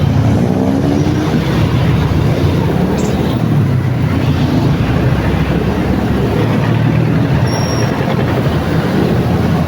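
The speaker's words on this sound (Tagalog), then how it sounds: "Traffic na talaga. Merkulis kasi ngayon eh." City street traffic on a Wednesday forms a dense, steady roar of passing vehicles that is loud and continuous throughout, with a faint brief squeal near the end.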